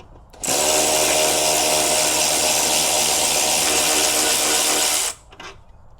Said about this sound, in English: Thanks to power tools, we can make this even faster.